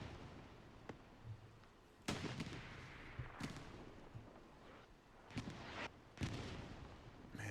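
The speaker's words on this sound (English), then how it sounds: "This artillery is just nuts." Video game artillery fire thunders in repeated heavy booms at irregular intervals, with several loud blasts between quieter rumbling.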